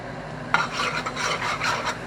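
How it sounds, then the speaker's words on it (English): Creole Cajun seasoning being stirred into catfish in a home kitchen, a steady scraping, rasping stir that starts with a sharp clink and continues in uneven strokes, close and fairly loud with no talking. "Get that stirred up."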